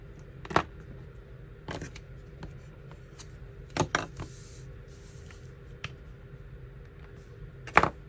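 Scissors trim paper for a planner in a few sharp, quiet snips spaced unevenly, with faint rustling of the sheets between cuts in an otherwise hushed room.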